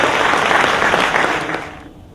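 Audience at a New York administration address breaking into a brief round of applause, a dense burst of clapping that quickly dies away.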